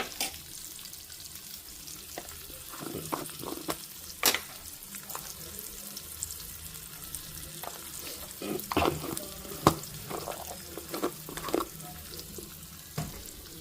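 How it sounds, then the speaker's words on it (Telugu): Lentils and turmeric frying as a tempering in a pan: a quiet, low sizzle broken by frequent sharp clicks and scrapes of stirring, fairly close with no talking. "ఇప్పుడు మొత్తం మంచిగా వేగే వరకు ఉండాలి"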